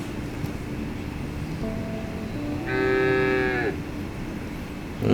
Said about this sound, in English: We have some cows.